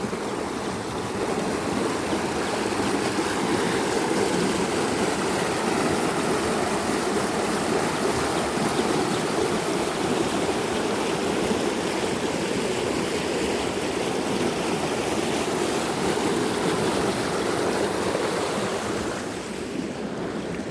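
Water flows into a canal beside a flood barrier in rural Phichit, Thailand. A steady, broadband rushing wash runs unbroken throughout, mixed with wind noise on the microphone, with no voices.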